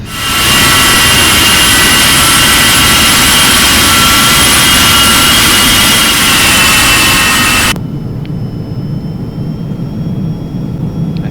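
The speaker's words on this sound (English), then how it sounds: "Rolling down that runway, 60 knots." Carenado Falcon 50 jet engines roaring loud and steady on the takeoff roll in X-Plane 11, a dense broadband whine with high turbine tones that abruptly drops to a quieter, thinner engine hum for the final few seconds.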